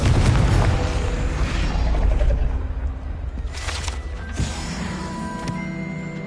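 A Confringo fire-blast spell in Hogwarts Legacy, a loud rumbling burst that fades over a couple of seconds, followed by a sharper crackling impact and lingering magical tones.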